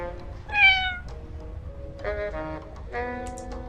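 A cat meows three times in 1954: Alcatraz, a clear rising-falling cry first, then two shorter, softer meows a second apart, close and alone over a low ambient hum.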